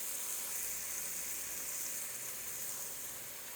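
An onion mixture sizzles steadily in a pan as pressed garlic goes in, a close, even hiss and crackle for a few seconds with no talking.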